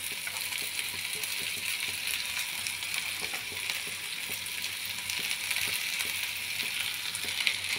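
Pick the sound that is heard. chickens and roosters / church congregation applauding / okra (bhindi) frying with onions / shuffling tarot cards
okra (bhindi) frying with onions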